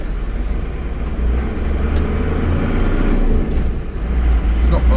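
A truck drives slowly around a corner, its low engine rumble and road noise steady and heavy from inside the cab, swelling slightly as it accelerates.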